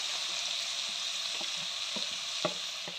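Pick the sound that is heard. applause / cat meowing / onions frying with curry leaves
onions frying with curry leaves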